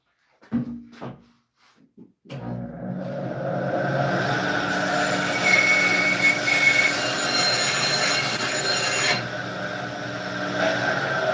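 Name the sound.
bandsaw cutting cedar for planters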